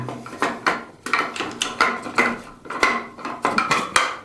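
Metal parts of a Savage 12-gauge shotgun clack and slide into place during reassembly, a rapid series of sharp close knocks and scrapes with no talking.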